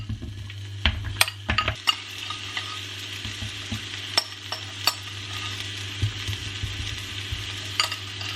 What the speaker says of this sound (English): Heat the pan on quite high, no oil. Once hot, add the courgettes.